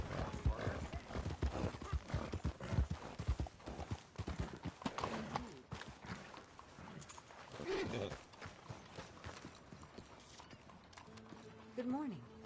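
Horse in Red Dead Redemption 2 trotting and galloping, with a steady clip-clop of hooves under a game soundtrack, a whinny along the way, the hoofbeats easing off near the end as a voice speaks.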